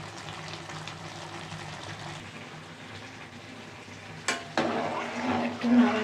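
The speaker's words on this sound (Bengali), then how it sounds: "একটু নাড়াচাড়া করে দিলাম।" Green chillies and cumin fry in a pan with a steady, soft sizzle, then a spatula scrapes through and the frying swells louder and brighter for the last seconds.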